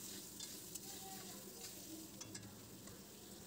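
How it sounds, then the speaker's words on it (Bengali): Prawns stirred and frying in spice paste for a Bengali prawn dish with taro stems, giving a soft, steady sizzle with occasional scraping stirs, fairly quiet and close, no voices. "কষে নিয়ে আমি চিংড়িগুলো অ্যাড করে দিচ্ছি মশলার মধ্যে, দিয়ে আবার ভালো করে একটু কষে নেব সময় দিয়ে।"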